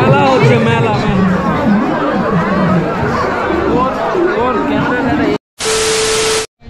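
Dense crowd chatter fills a Durga Puja fair in Diamond Harbour, a loud continuous babble of many voices close around, ending with a brief gap and a burst of static.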